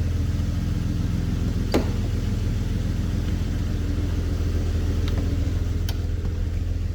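A Jeep Grand Cherokee WJ's 4-liter engine idles steadily after sitting for almost a year, a constant low rumble close by with a couple of faint clicks over it.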